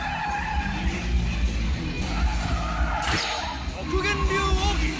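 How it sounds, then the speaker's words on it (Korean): A Hyundai i30 drifts with its tires skidding and squealing in sustained, loud screeches, a sharp whoosh partway through, with someone narrating over the car noise. "결국 현대차는 특정 조건에 따라 의도적으로 그립을 상실해 드리프트와 같은 움직임을 만들어냈고"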